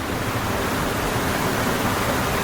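A Colorado waterfall rushes in a steady, dense roar, a continuous broadband wash of falling water with no breaks, fairly close and loud with no voices over it.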